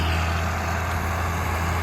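A farm truck's engine hums at a wheat harvest, a brief, steady, deep idle heard up close without any talk.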